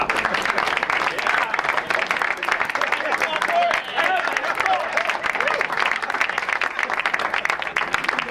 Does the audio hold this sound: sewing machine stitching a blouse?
no